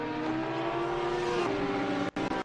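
Porsche race car engine in Assetto Corsa Competizione at Spa, heard onboard, holding a loud steady drone that rises slightly in pitch before abrupt cuts near the end, like upshifts or throttle lifts.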